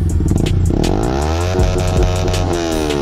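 Modified 2024 Yamaha R15M motorcycle fitted with an Akrapovic exhaust revs loudly and close by, engine pitch sweeping up and down through repeated throttle blips with no talking.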